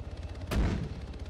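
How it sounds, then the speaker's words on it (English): A single mortar round fires in the Arma 3 video game, a sharp, booming launch thump over a pulsing background rumble. "We'll get the mortar to go."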